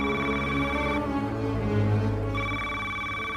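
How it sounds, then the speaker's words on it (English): A telephone rings at 3 a.m. in the White House during a political campaign ad, a loud, continuous electronic ring with steady tones and no talking. "It's 3 a.m. and the phone's ringing in the White House."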